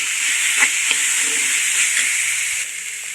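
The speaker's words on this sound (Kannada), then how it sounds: "ಹರವೆ ದಂಟಿದು, ಇದನ್ನು ಕೂಡ ಒಂದು ಚೆನ್ನಾಗಿ ಫ್ರೈ ಮಾಡ್ಕೊಳ್ಳೋಣ" Amaranth stems are stir-fried with pepper powder in a pan, giving a steady, close sizzle with a few light scrapes of stirring.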